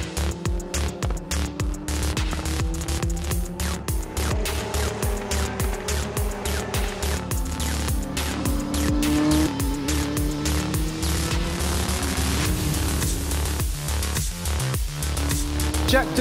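Formula 3 race cars screaming through a start at Buriram circuit in the Asian championship, loud overlapping high-revving engines with rapid gear shifts and pitch sweeps as the pack passes, continuous throughout.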